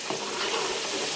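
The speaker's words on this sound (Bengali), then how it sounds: "দেখুন আমি মাছগুলো ফাঁকে ভেজে নিচ্ছি।" Fish pieces sizzle steadily in hot oil in a pan, a dense continuous frying hiss with light crackle, close and fairly loud, no voices.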